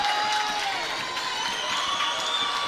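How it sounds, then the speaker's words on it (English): Guthrie basketball fans stand and cheer in a gym, a steady roar of crowd noise with shouts and whistle-like tones running through it. "Guthrie fans starting to stand up and cheer"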